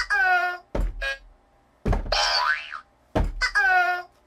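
A cheap Amazon boxing machine plays a cartoonish boing sound effect for a missed punch, three loud springy tones in a row, each starting with a sharp thunk and separated by short gaps.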